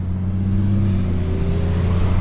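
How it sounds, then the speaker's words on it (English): A naturally aspirated 1990s inline-six car engine, JZ-like, holds a loud, close, smooth rev with a low steady drone that climbs slightly in pitch, and no voices over it. "aspirated inline 6 from like the 90s. Sounds like a JZ."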